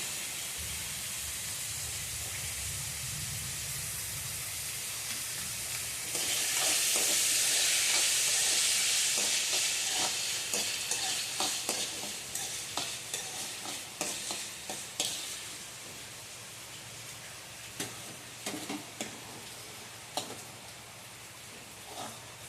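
Cooked rice is stirred into fried tomatoes in a hot pan, starting with a loud sizzle and hiss, then turning into a run of scraping, clattering stirs that gradually thin out.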